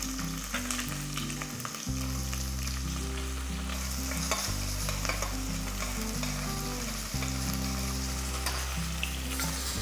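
Shallots and curry leaves crackle and sizzle in oil with a steady, moderate frying hiss dotted with small pops, heard beneath a constant low droning background.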